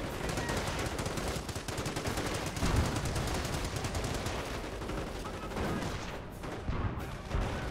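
Sustained machine gun fire in the Company of Heroes battle, dense rapid bursts rattling continuously and loudly with overlapping gunfire and no pauses.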